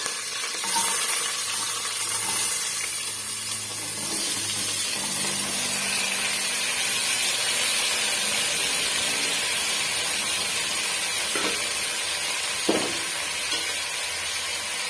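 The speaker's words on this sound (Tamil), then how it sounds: "எண்ணெய் நல்லா சூடாயிட்டு வந்துடுச்சு கருவேப்பிலை வந்து சேர்த்துக்கலாம் கட் பண்ணி வச்சிருக்கேன் காய்களாலும் சேர்த்துக்கலாம்" Curry leaves and chopped vegetables go into hot oil and give a broad, steady hiss of sizzling that holds fairly evenly, with a couple of brief clicks near the end and no talking.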